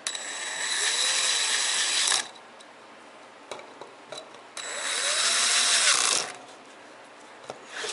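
Power drill driving screws into a Creality LD-002R resin printer on a very low torque setting, two long whirring runs of about two seconds each separated by quiet handling clicks, close and fairly loud.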